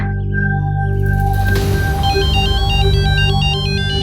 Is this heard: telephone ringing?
yes